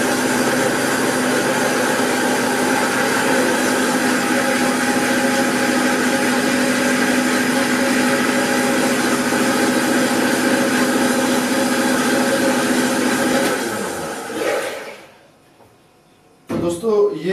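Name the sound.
blender blending a homemade protein shake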